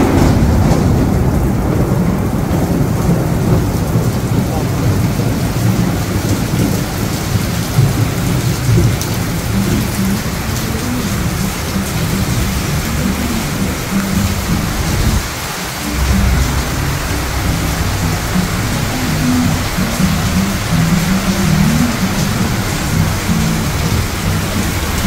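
A tropical thunderstorm in Malaysia: loud, continuous heavy rain lashes down nearby while a deep roll of thunder rumbles through midway, with no one speaking.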